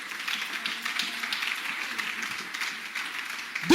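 A church congregation cheers and applauds the Lord: a steady wash of many hands clapping, fairly close and sustained throughout, with no clear voices on top.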